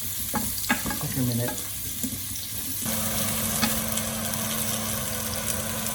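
Vegetables sizzle and fry in fat in a pan while a spoon stirs them, scraping and clattering at first, then settling into a steady loud crackling sizzle; a voice speaks briefly.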